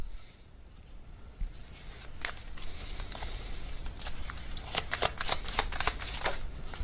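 Tarot cards being shuffled by hand, a run of soft papery riffles and flicks that grow denser toward the end, close and moderately quiet, with no talking.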